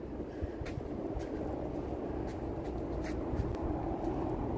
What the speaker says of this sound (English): You hear that train a-coming.